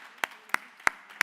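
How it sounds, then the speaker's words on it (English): Four sharp, separate hand claps, evenly spaced about a third of a second apart, ring out at a university education faculty reading event, with no talking over them. "Can you give her another round of applause?"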